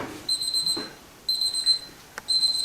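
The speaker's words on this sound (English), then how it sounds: "the buzzer's going off" A high-pitched electronic kitchen timer beeps in three short repeated bursts, clear and close, with brief pauses between them.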